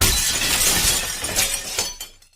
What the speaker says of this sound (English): Pierre was awakened by the sharp sound of breaking glass.